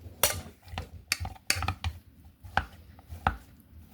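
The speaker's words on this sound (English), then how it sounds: "Now I'm going to smash it up." Seasoned potatoes for tacos are smashed with a series of sharp, close knocks against a hard surface, about eight irregular hits with quiet gaps between them and no talking.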